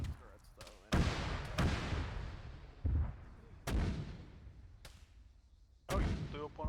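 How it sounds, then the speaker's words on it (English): A gate is blown up in a video game battle, with several loud booming blasts and gunfire-like bangs spread across the clip, mixed with voices talking. "oh, you blew up one of the gates."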